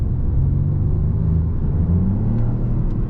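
A 2024 Peugeot 208 48V hybrid facelift driven at night in sport mode with the throttle pushed gives a steady, deep engine drone and rumble from inside the cabin, holding level throughout with no talk.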